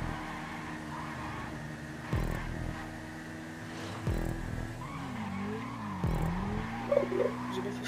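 In GTA 5, a racing car brakes and skids with repeated tire squeals and sweeping engine pitch changes, several sharp bursts about two seconds apart, loud and close with no talking.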